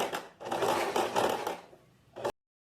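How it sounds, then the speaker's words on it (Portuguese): A sewing machine runs a second topstitch along a short-sleeved shirt's shoulder seam, the foot's edge guided against the seam join. It gives a steady mechanical whir in two bursts, a longer run and then a short one, close by before stopping. "Agora, a gente vai passar o segundo pesponto, vou encostar a lateral do meu calcador na emenda das costuras"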